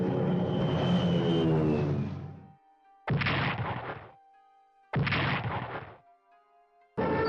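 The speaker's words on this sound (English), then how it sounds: "Then the bombers actually making their bombing run" Bombers make a bombing run in Strategic Command: War in the Pacific. A long roaring rumble is followed by three abrupt, loud blasts of noise, each cut off sharply, with quiet gaps and a faint steady tone between them.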